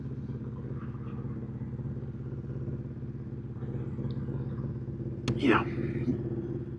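A 1979 Honda CB750F Super Sport motorcycle engine idles with a steady, low, pulsing rumble close by; a brief spoken word breaks in near the end.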